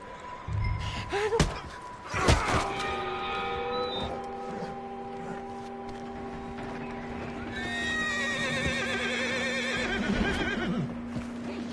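A horse in the Red Dead Redemption 2 video game gives a loud whinny amid hoof clops and thumps, followed by a sustained musical drone and a second, fainter neigh near the end.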